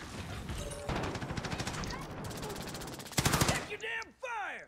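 Rapid automatic gunfire from a Modern Warfare match, with dense bursts of machine-gun fire, a loud volley near the end, and a few whooshing sweeps as the clip closes.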